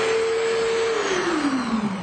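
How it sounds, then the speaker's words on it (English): A woodworking flutter wheel made of layered sandpaper spins on a power tool, producing a loud, steady whine that begins to drop in pitch partway through as it slows. "this is a fluttering tool. It's layers of sandpaper."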